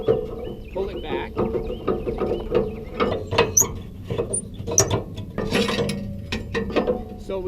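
Tow dolly ramp latch on an RV towing setup being unpinned and pulled back, a run of clicking, ratcheting metal clanks and scrapes at close range, with intermittent speech mixed in.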